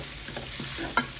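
Nasi goreng, Indonesian fried rice made with plain rice, stir-fried in a pan: a soft, steady sizzle with light scraping as it is turned, ending in one sharper clink near the end.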